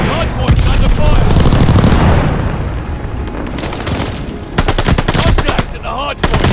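Heavy automatic gunfire and booming explosions in the Call of Duty Vanguard video game, loud and continuous with dense rapid bursts, a brief lull and then renewed sharp volleys.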